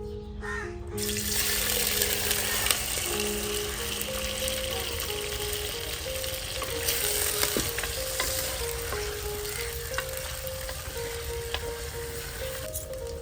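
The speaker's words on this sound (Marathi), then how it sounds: "तेल गरम झालेलं आहे आता आपण त्यामध्ये ही कलेजी घालूया" Steady, loud sizzling and crackling of liver frying in hot oil in a pan on a wood-fired stove, continuous throughout with occasional stirring, no voices.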